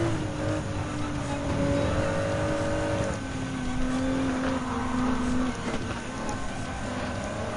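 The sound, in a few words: race car engines in Gran Turismo 7 video game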